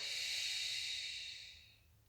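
One long, airy breath, close and soft, that fades out over about two seconds as part of a slow postpartum breathing exercise, with no talking.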